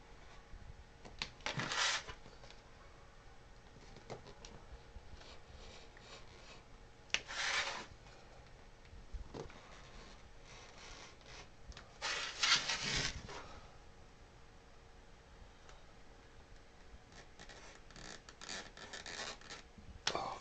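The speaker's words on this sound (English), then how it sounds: "And then I'm going to cut out my" Quiet scissors cut a diamond shape out of fabric for a wedding bag, giving soft rubbing and rasping snips with a few louder crunchy cuts spread through the stretch.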